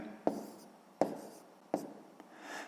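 Pen or pencil writing numbers on paper during long division, three distinct scratchy strokes about a second apart and a faint fourth, close and quiet with no talk.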